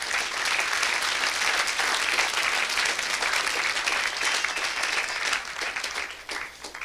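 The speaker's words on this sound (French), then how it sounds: "Acclame Jésus" A church congregation at a Sunday service applauds in a dense, sustained wash of clapping that fills the space, then tapers slightly near the end.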